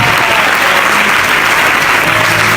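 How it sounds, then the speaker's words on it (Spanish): Loud, dense applause from a church congregation fills the whole stretch without pause, a steady wash of many hands clapping close around. "Fuerte ese aplauso, fuerte ese aplauso."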